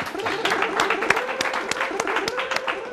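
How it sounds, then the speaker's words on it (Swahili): A studio audience on a Kenyan TV comedy talk show breaks into sustained, dense applause that holds steady for the full stretch, with sharp individual claps and a few cheers rising out of the crowd. "wapi makofi makofia one more time"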